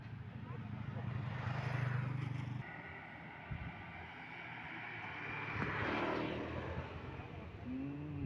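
Airplane engine about to depart near a TNI AU air force base gate in Palembang, a steady droning roar heard from a distance, with wind and ambient outdoor noise.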